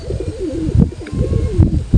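Giribaz pigeons of an old black line coo close by in a short burst of repeated, throaty rolling calls with no talking over them.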